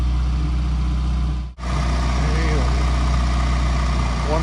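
A 1988 Suzuki Samurai JX with a 1.3-liter four-cylinder engine idles steadily, a constant low mechanical hum with a brief dropout partway through.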